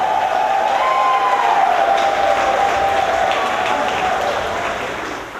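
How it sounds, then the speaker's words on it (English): A wrestling event crowd claps and cheers in steady applause that fills the hall, sustained throughout before tapering slightly at the end. "Give yourselves a round of applause."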